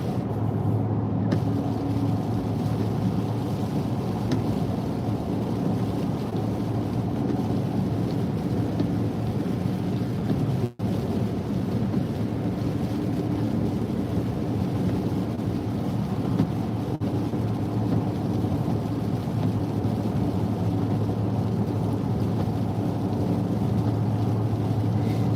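Heavy rain and a thunderstorm on the 128/I-95 belt, heard from inside a moving car, make a continuous loud rumbling wash of rain and road roar, with a sharp crack partway through and no talk.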